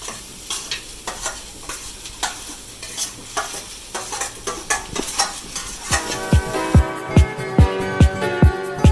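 Onions sautéing in a pan for a drumstick-leaf biryani sizzle steadily while a utensil scrapes and taps the pan in a regular rhythm, and the taps grow louder and sharper toward the end.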